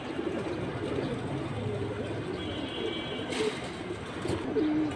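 Pigeons coo at a busy pigeon market, soft low coos close by over a murmuring crowd background, with a faint brief whistle-like call partway through.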